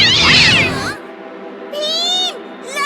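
Cartoon cats from the Chhota Bheem kids' series give loud, close, drawn-out meows, one long cry followed by a second after a short pause.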